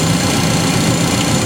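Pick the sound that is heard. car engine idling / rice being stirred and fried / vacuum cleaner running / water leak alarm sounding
car engine idling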